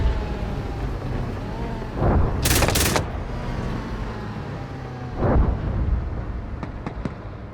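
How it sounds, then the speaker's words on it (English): Small arms fire crackles in the Gunner HEAT PC tank game, with two loud bursts around two and five seconds and a few sharp distant pops near the end, all over a steady low engine rumble. "More small arms fire on the next section right here."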